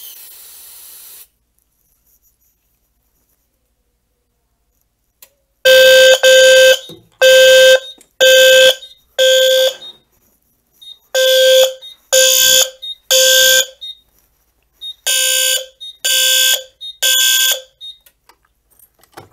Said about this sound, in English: And then we will solo test the smoke detector.